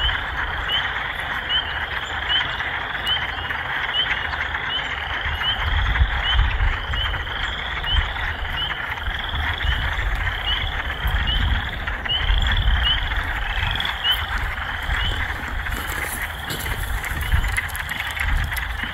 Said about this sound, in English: Thank you, little froggies.